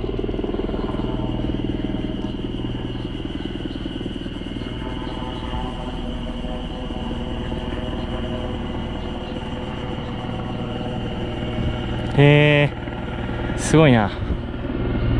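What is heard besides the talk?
helicopter flying overhead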